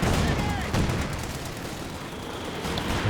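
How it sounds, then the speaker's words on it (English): Dense battlefield gunfire from a Company of Heroes 2 2v2 match, with overlapping shots and explosions forming a steady, loud wash of combat noise that runs the whole stretch with no clear gaps. "A couple shots in."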